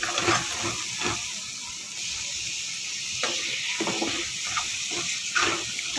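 Tomatoes tipped into hot, oil-releasing masala for Punjabi chole give a steady, close sizzle and hiss, with a few louder spits and crackles scattered through.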